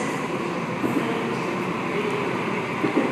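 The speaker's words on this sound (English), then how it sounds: "Waratah arriving on platform 1, Glenfield via Granville service." A Sydney Waratah train pulling into a platform at Circular Quay station, a steady loud rumble of wheels and motors with faint rail clicks, heard close and without talk.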